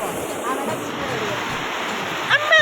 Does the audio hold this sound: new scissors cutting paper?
no